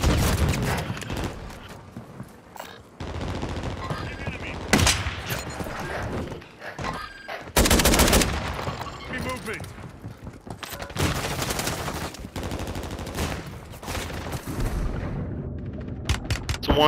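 Gunfire in a Warzone quads match, with dense bursts of automatic fire and booming shots repeating in loud clusters, broken by short quieter gaps.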